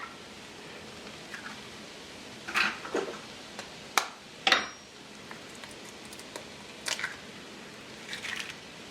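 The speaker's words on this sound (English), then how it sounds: "all I'm going to do is crack some eggs" Eggs cracked one after another into holes in a pan of leftover turkey hash, with a few sharp taps and crackles over a quiet background of faint sizzling.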